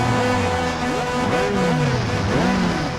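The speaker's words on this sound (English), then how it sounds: "The sound of roaring engines, the smell of burning rubber." Race car engines roar in the R: Racing Evolution video game, loud and continuous, with rising and falling revs and gear shifts sweeping up and down over a dense, steady engine din.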